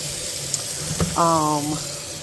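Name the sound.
washing collard greens in water in the sink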